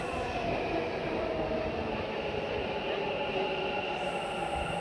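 Steady rumbling metro train noise with a constant broadband roar, heard from inside a Bengaluru metro carriage, continuous throughout without pauses.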